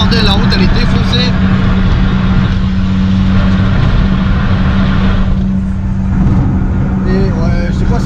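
A BMW E30 with a six-cylinder engine drives over a badly broken road, its engine drone steady and loud with rattles and thumps from the rough surface, while people talk over it.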